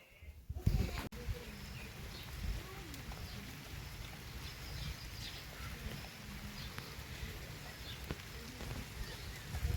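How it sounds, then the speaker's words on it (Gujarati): Light rain falling outside a house, a soft even patter that stays faint and steady throughout, with a brief knock near the start. "હલકો હલકો વરસાદ આવ્યો છે"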